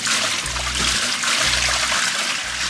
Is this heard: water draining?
yes